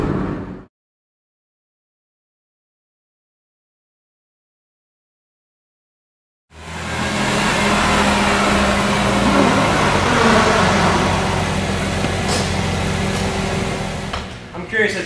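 After several seconds of silence, the engine of a BMW E46 M3 convertible in sport mode at its highest shift setting drones loudly and steadily, with a person talking over it.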